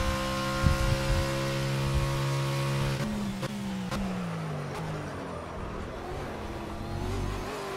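A BMW Z4 GT3 race car in Project CARS, on the Nürburgring GP circuit, revs up through the gears with a rising engine whine, dips on shifts, then drones on at steady high revs, close and continuous.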